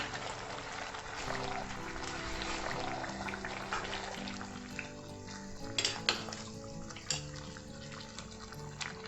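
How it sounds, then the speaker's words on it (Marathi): Chicken biryani ingredients and fried onions mixed in a pot, a soft wet churning with scattered spoon scrapes and a few sharper metallic knocks toward the end, close but fairly quiet, no speech. "हे सगळं मिक्स करून"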